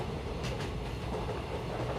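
A steam train runs steadily across a large bridge over a river, a continuous rumbling roll of wheels and carriages heard alone at moderate level.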